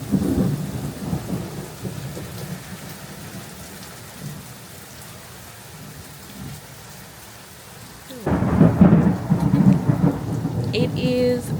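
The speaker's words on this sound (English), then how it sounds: "It is raining. It is raining pretty hard" Heavy rain pours steadily outside a porch, a dense continuous wash that swells noticeably louder toward the end, with no voices over it.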